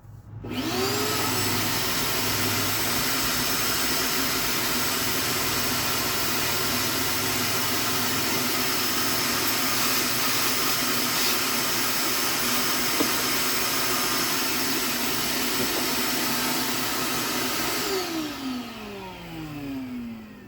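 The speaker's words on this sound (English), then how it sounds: "But I got my vacuum handy" A shop vacuum runs loudly and steadily for a long stretch in a woodworking shop, with a whining motor that winds up at the start and spins down at the end.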